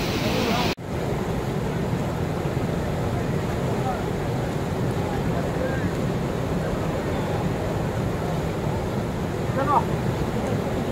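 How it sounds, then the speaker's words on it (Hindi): The Dhuadhar waterfall at Bhedaghat roars in a dense, steady rush of heavy water that fills the scene continuously, with a brief sharp bump near the start. "सच में बिल्कुल धुआंधार है। और देख सकते हो स्पीड और फ्लो कितना है।"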